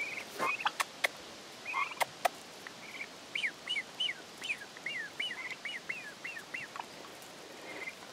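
Turkeys in their pen give a rapid run of bubbly gobbling calls, faint and somewhat distant, with a few sharp clicks early on and a light outdoor background.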